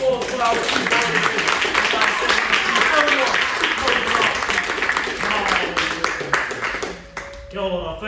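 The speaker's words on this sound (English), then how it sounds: "how about a round of applause for our 2 warriors?" A crowd applauds after a Maori warrior dance performance in New Zealand, with steady dense clapping and cheering throughout that thins briefly near the end. Voices mix into the noise.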